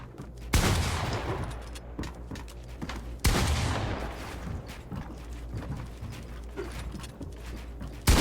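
Pump shotgun shots in a competitive shooter video game, two sharp loud blasts a few seconds apart, each trailing off, amid busy game clatter and smaller pops, with a third blast at the very end.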